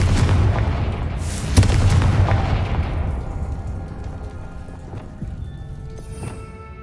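Confringo fire-blast spell from Hogwarts Legacy going off as a deep booming burst with a sharp crack, then a rumbling, crackling decay that fades over several seconds.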